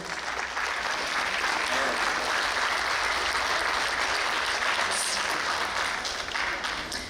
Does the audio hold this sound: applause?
yes